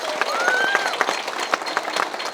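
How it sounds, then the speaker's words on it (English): Wedding guests applaud the couple Breana and Jeremiah with scattered, irregular claps from a modest crowd, and a faint high whistle-like tone rises briefly near the start. "So if we all please give a hand and just applaud what Breana Balfe and Jeremiah Balfe have before you right now"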